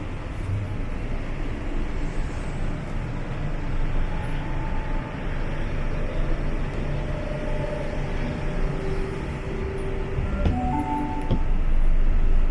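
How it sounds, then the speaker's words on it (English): Inside an old V-set passenger train travelling from Sydney to Katoomba in the Blue Mountains, a loud steady rumble of wheels and carriage with a low droning hum, plus a few squeaks and tonal whines near the end. "sit back and enjoy the interior of these old V-set trains"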